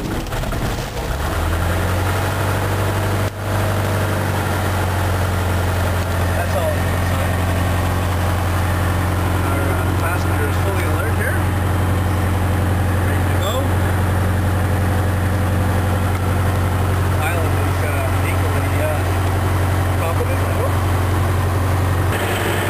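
A Brockway truck engine cranks and then settles into a loud, steady low rumble, running continuously up close, with a voice talking over it.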